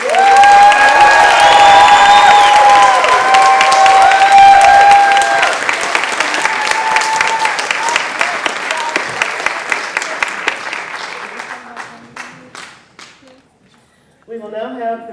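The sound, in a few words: audience applause for nursing graduates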